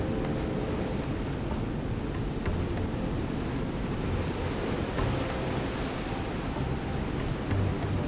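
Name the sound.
Peričnik waterfall in Slovenia, water falling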